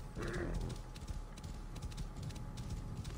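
Horse hooves clip-clop at a steady gallop in the video game Assassin's Creed Origins, a brisk repeating beat close and loud, with a brief whinny-like tone near the start and no talking over it.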